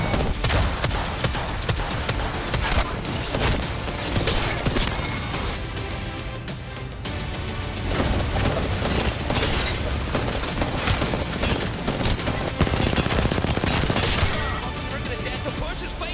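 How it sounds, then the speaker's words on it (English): Rapid Apex Legends gunfire during a team fight at Geyser, dense overlapping bursts and shots rattling continuously throughout, loud and busy under an excited commentator talking over the action. "Those are some pretty good shots coming out."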